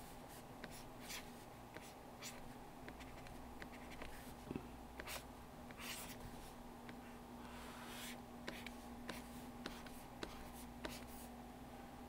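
Stylus sketching quick rough strokes on a drawing tablet in Storyboard Pro: faint, scratchy taps and short swipes repeat irregularly over a low steady background hum.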